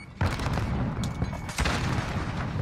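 M4 rifle fire in a shooter game, a dense loud burst of rapid shots with sharp cracks over a steady roar of battle, and no voice on top.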